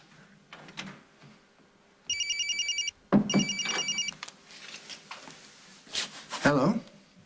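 A cell phone rings in two short trilling bursts, close and clear, with voices and movement around it before and after.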